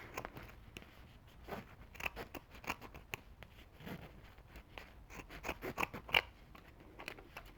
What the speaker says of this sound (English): we're going to cut this down and just cut off one of these strips